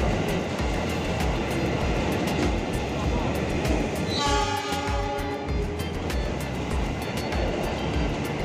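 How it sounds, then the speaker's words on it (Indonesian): The additional Taksaka executive train pulls into Gambir station in Jakarta, making a loud, continuous rumble and roar with a brief horn-like tone sounding partway through. "kereta api Taksaka tambahan segera tiba di stasiun Gambir"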